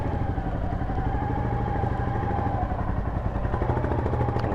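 Royal Enfield Goan 350 motorcycle running steadily up close, a continuous low thumping engine note with mechanical clatter, no talking.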